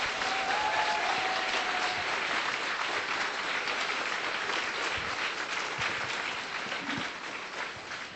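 Audience at a Tokyo Game Show 2013 conference applauds as a team walks onto the stage, sustained dense clapping that slowly tapers off over several seconds.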